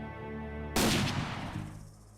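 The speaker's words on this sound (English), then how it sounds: "Guns are appropriately punchy." Gunfire from the Mad Max video game: a sharp, punchy blast with a long decaying tail, then a second loud shot near the end, with a low droning game ambience underneath and no talking.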